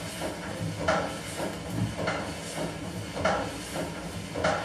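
A stationary steam engine in the English tradition, its speed held steady by a governor, chuffs in a regular rhythm of soft hissing beats about every second and a bit, moderately loud with no voices.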